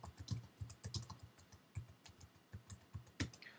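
Someone types at a quiet, steady pace on a computer keyboard, producing soft, close keystroke clicks in irregular clusters with brief pauses.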